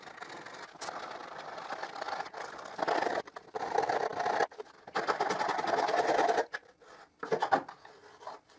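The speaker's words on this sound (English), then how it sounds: "So I have to scrape the rest of glue and varnish that are still attached to the edge of the" Scraper working glue and varnish off the edges of wooden triangles on a 45-degree crosscut jig, producing bursts of close, gritty scraping strokes separated by short pauses.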